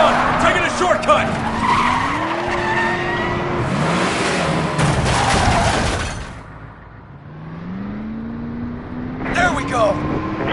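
Car engine revving and tyres skidding with squeals during a chase in the Resident Evil 6 video game, loud and continuous, with a voice shouting over the driving and a brief lull near the end before the engine picks up again.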